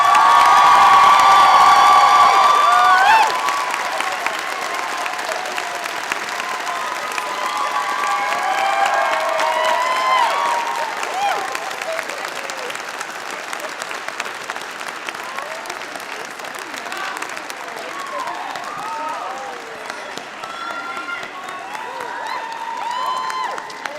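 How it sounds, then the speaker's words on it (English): Graduates at a convocation ceremony applaud the faculty, loud sustained clapping mixed with cheers and whoops from a large crowd, swelling at first and then thinning into scattered clapping and murmuring voices. "a round of applause for the faculty"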